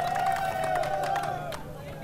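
A crowd chants "India, India" in celebration of Team India's victory, a steady rhythmic roar of many voices that carries on without pause, with a low hum underneath.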